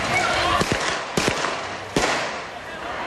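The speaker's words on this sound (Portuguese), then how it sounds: "Este vídeo feito por moradores mostra o momento do tiroteio." Gunfire in a shootout between police and criminals, recorded by residents from nearby: three or four sharp loud cracks spaced irregularly over a steady background wash of noise.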